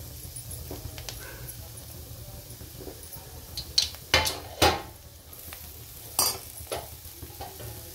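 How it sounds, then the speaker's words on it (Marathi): Squeezed safflower greens drop into a hot pan with turmeric and are stirred, giving a steady sizzle under scraping and several sharp clanks of a utensil against the pan. "आता आपण ही पिळलेली भाजी टाकून घेऊ"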